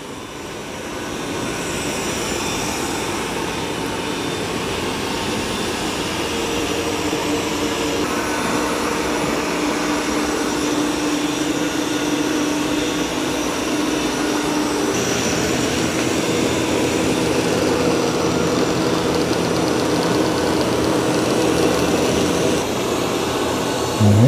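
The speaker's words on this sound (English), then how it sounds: "The ECOVACS is down there and I can hear it pretty good." An ECOVACS DEEBOT X2 Omni robot vacuum mopping and vacuuming a floor with muddy paw prints gives a continuous, steady whirring drone that holds level throughout without any talk.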